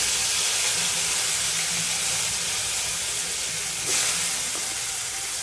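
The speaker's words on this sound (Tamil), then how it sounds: "நல்லா பொரிஞ்சிச்சு கடுகு போட்டுக்கலாம் இது கருவேப்பில போட்டுக்கலாம்" Mustard seeds and curry leaves crackle in hot oil in a home kitchen, a steady loud hiss of frying that runs the whole time, with a brief sharper burst near the end.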